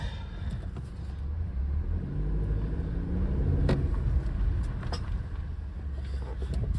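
A 2019 Toyota RAV4, just fitted with new front and rear brakes, rolls along on a short drive, heard from inside as a steady low engine and road rumble with light wind noise and one brief knock.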